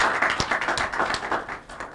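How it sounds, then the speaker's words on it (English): Audience at a live Nigerian family radio-TV program clapping in a steady, fairly close patter of hand claps for about two seconds, no talking over it. "More clap for her."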